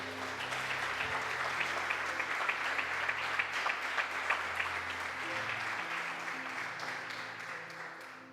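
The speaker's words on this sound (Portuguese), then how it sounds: "Quem acredita nisso pode dar uma salva de palmas para Jesus." A church congregation claps together in a steady, even wash of applause that lasts throughout, with no talking over it.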